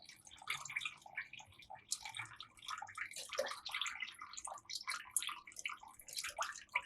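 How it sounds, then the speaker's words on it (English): Water pouring and trickling as it is strained off cooking rice in a container, a steady splashing and dripping stream close by. "And pour off the water. Strain it off real good."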